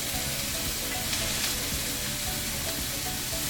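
Scallion whites and cut mushrooms fry in hot oil, giving a steady, loud, close sizzle with dense crackle throughout and no talk.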